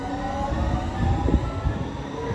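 A driverless metro train in Denmark rumbles past in a steady, loud wash of rolling wheel and motor noise that swells slightly midway, with no talking.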